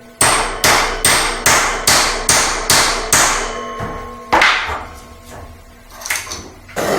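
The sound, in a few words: hammer smacking a cable lug crimping tool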